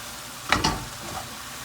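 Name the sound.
mushrooms and onions sizzling in a pan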